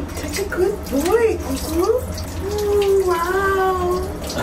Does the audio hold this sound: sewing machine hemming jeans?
no